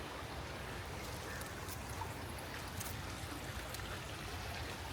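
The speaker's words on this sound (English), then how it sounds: "Oh, the sound of the water" Water running in a stream beside a hiking trail on the Pharr Yarns Family Trail, a steady broadband rush and trickle that stays constant throughout with no voices.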